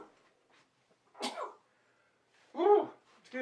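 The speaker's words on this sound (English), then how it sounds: "Sometimes you just gotta sneeze, and that was one of those times." Two sharp sneezes, close to the mic, the second stronger, separated by brief quiet with a faint breathy buildup before the first.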